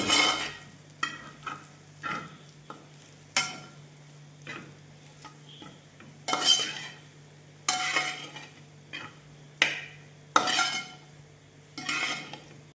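Beef with coconut pieces being dry fried in a pan, stirred with a spoon: repeated scraping strokes over a low sizzle, irregular bursts a second or so apart, close and clear, no talking.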